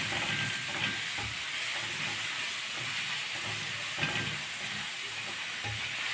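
Onion softens in a spoonful of ghee for rice kofta in tomato sauce, giving a steady, moderate sizzle with a soft hiss and occasional stirring scrapes, close and continuous with no voices.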